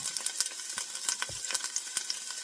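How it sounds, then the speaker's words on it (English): Carrots and broccoli sauté in avocado oil while being stirred, a soft sizzle broken by quick, irregular taps and scrapes of the utensil against the pan, close and fairly quiet. "start just kind of stirring them around, get them coated in the oil"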